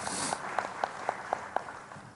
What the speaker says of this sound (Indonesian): Beri tepuk tangan untuk Tuhan Yesus Kristus.